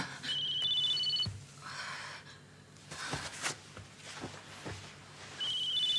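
A telephone rings in a tense crime-drama scene, its short electronic ringtone bursts sounding at the start and again at the end, with soft rustling and movement in between.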